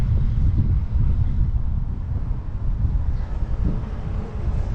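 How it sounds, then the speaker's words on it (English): Strong wind buffets a GoPro Max's built-in microphone in Palma de Mallorca, a constant loud low rumble with gusty surges and no voices throughout. "very, very windy now"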